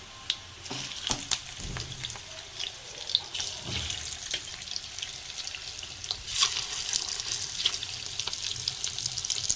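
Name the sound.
eggs frying in a pan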